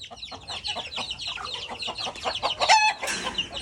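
A hen on a farm clucks in a quick, close run of short calls that rise into a louder squawk near the end, heard alone without talk.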